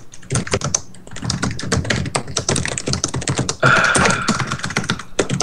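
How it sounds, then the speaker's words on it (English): A loud computer keyboard clatters with rapid, irregular keystrokes close to the microphone, dense bursts of clicks and taps continuing throughout. "it's your god-awful keyboard"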